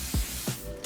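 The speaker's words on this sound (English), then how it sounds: "I literally just take it and spray it on top of the lace." Holding spray misted onto the lace of a wig, two short, close hissing bursts about a third of a second apart.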